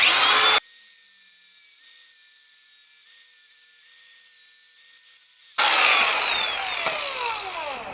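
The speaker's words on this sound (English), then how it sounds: "You guys want to watch me thread that bolt?" Threading a bolt with a die for a 1984 Freightliner cab-over throttle linkage: a loud, harsh scraping, grinding burst opens the stretch and returns near the end, with a long, quieter steady tone in between.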